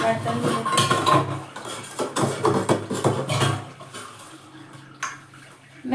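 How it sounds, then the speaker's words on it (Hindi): Dishes washed under running water: a steady hiss of the tap with frequent clinks and clatters of pots, plates and cutlery, close and busy for several seconds before easing off, no talk. "जल्दी जल्दी हम बर्तन धो लेते हैं।"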